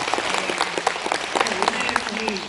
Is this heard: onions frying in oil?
no